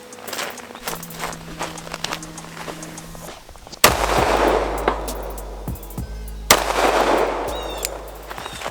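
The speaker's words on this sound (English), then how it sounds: "So let's do 2 more shots of 45." Two .45 caliber pistol shots are fired into a Kevlar backpack armor panel, two sharp, loud reports several seconds apart, each followed by a ringing decay, after quieter handling noises.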